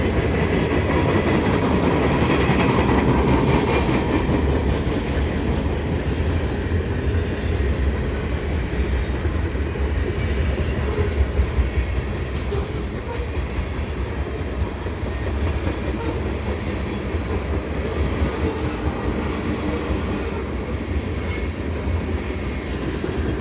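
A CN eastbound freight train carrying tank cars and mixed freight rolls past at the Dorval ramps, a loud, continuous rumble of wheels and cars with rhythmic clicks and brief squeals throughout.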